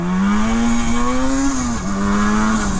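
A 1973 Yamaha RD350 two-stroke motorcycle being ridden gives a loud, close, buzzy engine drone that rises in pitch, dips briefly, then steadies, with no voices.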